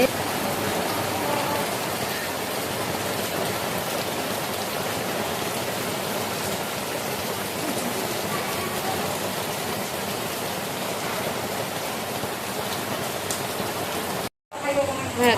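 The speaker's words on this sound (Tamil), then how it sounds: "பாருங்க எந்த அளவுக்கு மழை பெய்யுதுன்னு நம்ம மழை காலையிலேருந்து பெஞ்சிட்டு இருக்குது" Heavy rain pouring down steadily in a rural village during the monsoon, a dense, loud continuous wash of falling water that cuts out briefly near the end.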